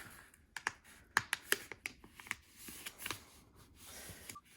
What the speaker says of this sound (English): then you're going to fold it in half